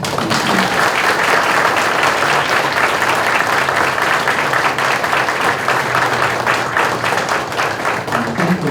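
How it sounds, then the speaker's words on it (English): Sustained applause from the audience at a school district special board meeting, a dense, steady wash of many hands clapping that fills the room at an even level throughout. "One more round of applause."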